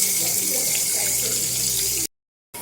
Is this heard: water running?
yes